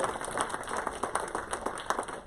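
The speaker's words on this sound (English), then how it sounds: "Please join me once again in applauding all of our new Honor Society members." Applause for newly inducted National Junior Honor Society members at a 2023 induction ceremony, a steady dense patter of many hands clapping at moderate distance with no talk over it.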